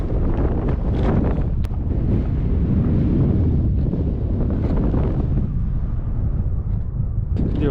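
Strong wind blows steadily by a salt lake near Ankara, Turkey, with loud continuous gusty rumble buffeting the microphone throughout and no speech.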